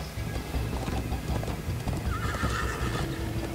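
A horse gallops in the Minecraft Story Mode video game with steady clip-clop hooves and a whinny, set against a busy game soundscape and no talk.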